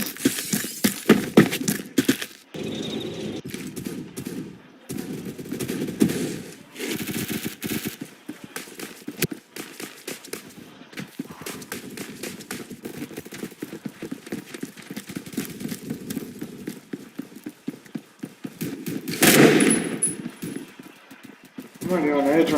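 Rapid bursts of automatic gunfire from the video game Phantom Forces crackle repeatedly throughout, with someone talking excitedly over the shooting.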